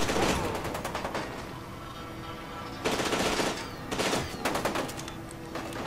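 Rapid automatic gunfire in the shooter game F.E.A.R. 2, with loud bursts of rattling shots that stop and restart over a few seconds against a busy background of game sound.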